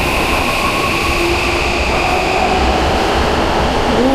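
Steady loud rumble of a Tokyo subway or metro train running throughout, with rail hum, a faint squeal of wheels and no speech.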